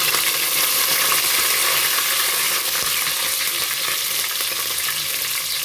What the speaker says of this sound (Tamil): கருவேப்பிலை பொரிஞ்சோடனே